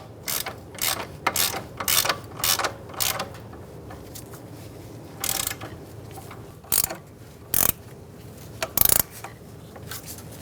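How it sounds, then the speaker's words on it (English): Ratchet snugging up wheel fasteners on a 2014-2018 Subaru Forester during a front CV axle replacement, close bursts of rapid clicking in short runs separated by pauses, with no speech. "we're going to snug these up and then torque them to 59 foot-pounds."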